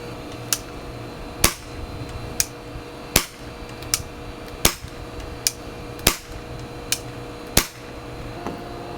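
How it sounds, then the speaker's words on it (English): Hammer valve airsoft rifle firing blanks without a silencer, a run of sharp, loud cracks at roughly regular intervals, with fainter clicks between the shots and no talk. "So without the silencer, there's a really sharp crack"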